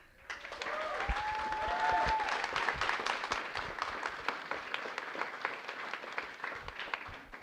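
Audience applause at a live TEDx talk fills the room for several seconds, dense steady clapping that swells then gradually thins, loud and continuous with no voices over it.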